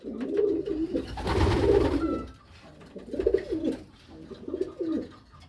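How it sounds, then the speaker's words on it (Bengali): A Padmashil pigeon perched on a hand in a loft gives repeated low, throaty coos in several bursts, heard close up with some rustling handling noise between calls. "কবুতরটা অনেক সুন্দর, চোখটা দেখেন"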